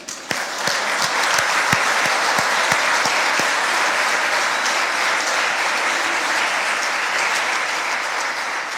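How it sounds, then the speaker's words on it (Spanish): Church congregation applauding during a sermon, a dense, steady wall of clapping that carries through the whole stretch, with a few sharper claps standing out near the start and no voices above it. "¿Usted cree que Dios merece un aplauso?"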